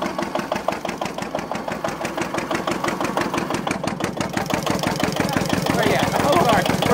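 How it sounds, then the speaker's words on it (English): An antique stationary gas engine warmed up and running under a load test at a fall engine show, a steady rapid chugging beat close by, with a person talking briefly over it. "I think the engine's warmed up"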